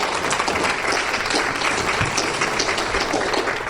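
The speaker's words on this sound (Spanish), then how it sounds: "dale un aplauso fuerte si se lo vas a dar." A church congregation breaks into loud, sustained applause during a sermon, a dense unbroken wash of clapping that fills the space evenly from start to finish.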